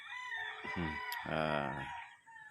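Backyard chickens and a rooster, with a rooster crowing loudly and nearby in a drawn-out call, hen clucks around it and a low background hum.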